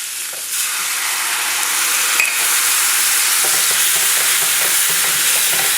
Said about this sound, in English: Now we're going to put the white wine.